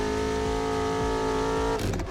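A 4x4 car in the Assetto Corsa racing game revs steadily with a droning, layered engine tone, then the pitch shifts abruptly near the end.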